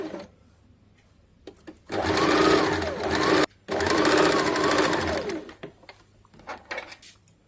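A sewing machine stitches a folded hem on a princess-cut blouse in two steady bursts of rapid whirring, briefly pausing in between, with quieter handling noises before and after.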